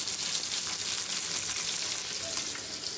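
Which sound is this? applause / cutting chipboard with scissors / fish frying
fish frying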